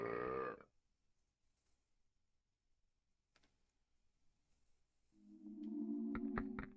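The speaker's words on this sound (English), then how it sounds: "He just does the second belch again" A cartoonish belch from the video game The Neverhood opens loud and close and cuts off abruptly. Near silence follows with faint ticks, then a sustained buzzing, reedy tone with sharp clicks comes in.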